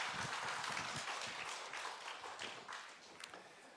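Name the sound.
audience applause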